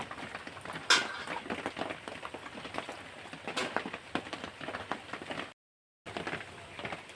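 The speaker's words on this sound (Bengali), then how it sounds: "তো এই গরম মোচার মধ্যে আমি জল ঢেলে দিলাম।" Water poured over hot cooked banana blossom gives a steady, close crackling and splashing hiss with a few sharp pops, cut by a brief silent gap near the end.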